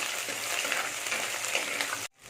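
Onions and curry leaves sauté in a pan for a Tamil karakuzhambu with drumstick and potato, giving a steady close sizzle with faint stirring that cuts off abruptly near the end.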